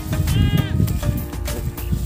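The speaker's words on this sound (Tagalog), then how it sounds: "Medyo marami po siyang alagang kambing" Several pet goats bleating close by on a small farm, the calls wavering and overlapping over a steady low background.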